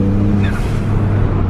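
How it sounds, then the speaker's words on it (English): A Ford Fiesta ST with its first performance modifications drones steadily from inside the cabin while driving. A brief turbo boost whistle rises over the constant engine and road noise. "Listen to the boosts."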